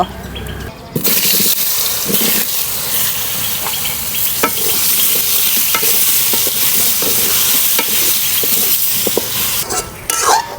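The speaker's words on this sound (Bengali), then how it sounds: "এবার কলাগুলো লবণ আর হলুদ দিয়ে ভেজে তুলে নেব।" Green bananas frying in hot oil with salt and turmeric, a steady loud sizzle running throughout with occasional stirring clinks and scrapes, after a brief quieter moment at the start.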